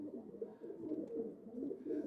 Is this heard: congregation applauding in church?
no